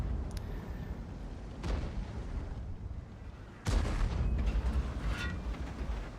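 Tank cannon shots in a World of Tanks-style battle involving an Object 260, an E75 and a Chieftain P: a sharp boom near 1.6 s, then a heavier blast at about 3.7 s, with a low rumble running underneath.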